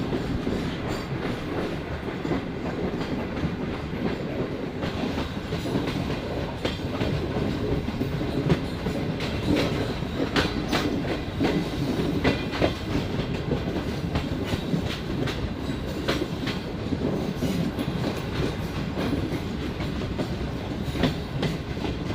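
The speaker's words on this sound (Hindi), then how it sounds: "रोडी में ट्रेन एंटर होते हुए" A passenger train runs on the rails into Rohri junction, a steady loud rumble with rhythmic clickety-clack of wheels over the track joints, heard from on board without any talk.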